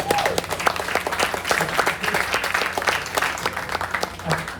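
Brisk audience applause from a modest crowd at a wildlife show, loud sharp claps that keep going for several seconds.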